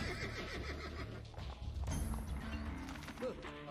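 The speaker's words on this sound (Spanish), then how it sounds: "Un caballo." A horse in Assassin's Creed II gives a bright, wavering whinny over a busy crowd and a clatter of hooves, with people talking in the background.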